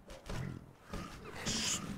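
A wolf in the strategy video game Northgard growls and roars in low, rumbling bursts against game sound effects, ending in a brighter, hissing snarl.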